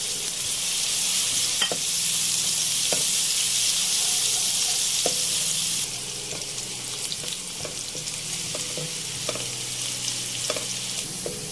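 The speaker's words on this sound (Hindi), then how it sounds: "मैं यहाँ पर इतना फ्राई करूँगी प्याज को कि उसका कच्चापन बिल्कुल ख़त्म हो जाए।" Steady sizzling of onions and cumin seeds frying in a pan, close up, with occasional light clinks of a spoon stirring.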